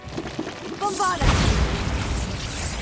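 A Bombarda explosion spell in Hogwarts Legacy, a brief chime and whoosh followed by a heavy, sustained boom that lingers as a dense rumbling roar.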